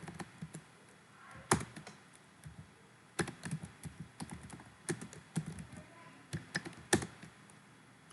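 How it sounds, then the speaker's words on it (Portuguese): Computer keyboard typing in irregular bursts of quick, close key taps separated by short pauses, quiet overall. "começar a digitar Times"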